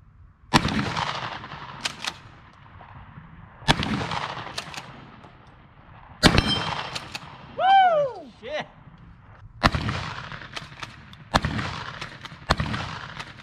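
A brand-new Mossberg 500 shotgun fired outdoors, with about six loud, sharp booming shots spaced a few seconds apart; a short whistling or whirring sound sits between two of the shots.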